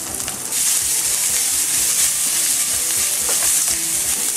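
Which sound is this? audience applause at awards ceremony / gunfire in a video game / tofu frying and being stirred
tofu frying and being stirred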